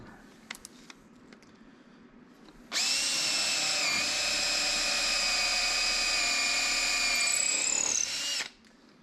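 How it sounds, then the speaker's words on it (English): A power drill bores a small hole into apple burl wood on a hollow form, a loud steady whine that starts abruptly, holds for about six seconds, then stops, with quiet shop background before. "We'll drill this little hole right here."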